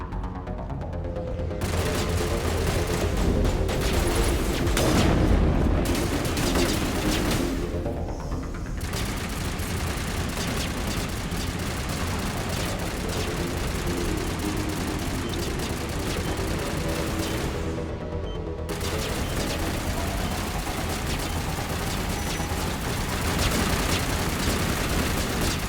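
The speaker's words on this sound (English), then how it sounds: "Hey look, they're shooting at objects." Sustained gunfire in Mass Effect Legendary Edition: continuous rattling bursts and booming impacts in a loud, dense battle mix that rarely lets up, with a few brief lulls.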